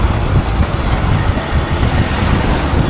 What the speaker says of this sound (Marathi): गर्दी पुढे गाड्यांची जाम गर्दी आहे